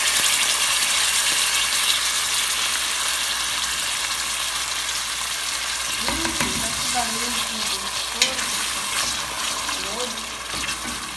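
Continuous loud sizzling and crackling of onions frying in a hot pan, with a voice speaking briefly partway through.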